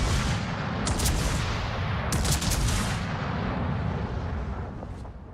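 Heavy warship guns fire in World of Warships, a loud artillery roar with two sharp crack bursts about a second apart over a sustained rumbling wash that slowly fades.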